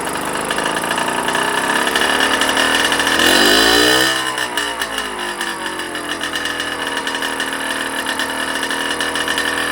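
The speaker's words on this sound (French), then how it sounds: "le moteur démarre à la main, pas de problème" A small moped engine, started by hand, running close by, its pitch rising briefly in a quick rev before it settles into a steady, buzzing idle.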